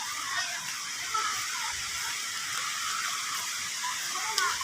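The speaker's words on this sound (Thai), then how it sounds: "ก็เป็นน้ำตกเป็นแนวธรรมชาติ" Natural waterfall at a Nakhon Nayok outdoor spot, a steady broadband rushing wash of falling water that holds constant throughout, with faint children playing in the distance.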